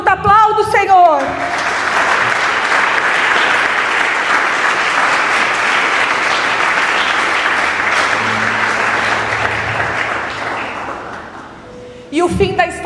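A church congregation bursts into sustained, loud applause that fills the room for about ten seconds, briefly preceded and followed by a voice speaking.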